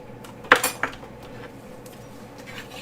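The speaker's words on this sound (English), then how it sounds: "So I have some different size spatulas here that we'll try." Metal spatulas of different sizes clatter and clink against each other as they are handled: two or three sharp, close knocks in quick succession, then a quiet background.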